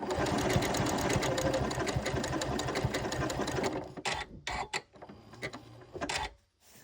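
A sewing machine stitches a buttonhole-stitch appliqué, running in a steady fast rhythmic chatter for about four seconds, then slowing into short, stop-and-start bursts as the stitching pauses and pivots at a sharp turn.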